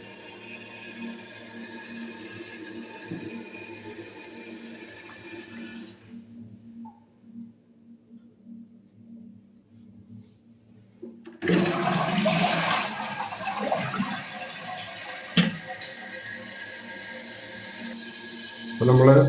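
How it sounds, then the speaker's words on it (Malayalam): A toilet flush tank refilling through a newly replaced float valve: a loud rush of water surges in partway through, following a quiet stretch with faint talk, and keeps running steadily to the end. "അടിപൊളിയായിട്ട് വെള്ളം വരുന്നു."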